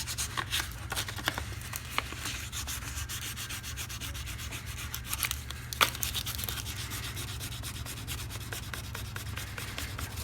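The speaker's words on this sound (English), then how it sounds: "I'm just going to hit it with the sandpaper instead of the file." Sandpaper rubbed by hand over the metal bolt of an antique mortise lock, quiet close scratchy strokes repeating in a fast, steady back-and-forth rhythm with a couple of small knocks.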